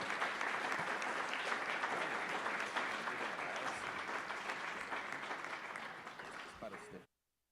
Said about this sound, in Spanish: les damos un reconocimiento y un aplauso